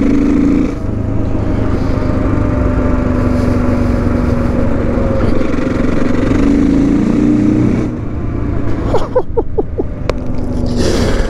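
A new motorcycle's engine on its original stock exhaust runs loud and steady close by, with a few sharp revs blipping near the end.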